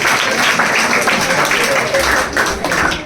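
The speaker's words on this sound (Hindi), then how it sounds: "शाहरुख के लिए भी ताली हो जाए" Students and staff clap for Shahrukh, an honoured pupil selected for the army, at a coaching-class felicitation event. The clapping is steady and fairly loud for about three seconds, with talking mixed in.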